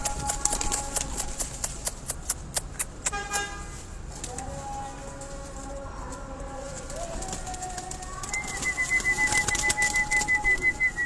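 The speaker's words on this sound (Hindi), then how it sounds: "इसमें ये मोतियों वाली ब्रीड के कबूतर भी हैं।" Pearl and golden breed pigeons on a rooftop in Faizabad, Islamabad, cooing softly amid a steady wash of street traffic, car horns and scattered clicks. The birds sit at moderate distance and no one talks.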